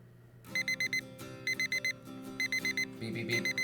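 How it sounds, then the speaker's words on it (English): Alarm clock beeping in the visual novel Doki Doki Blue Skies, sounding in repeated bursts of four quick electronic beeps with short pauses between them, clear and alone over soft background music. "Beep, beep, beep. Beep, beep, beep."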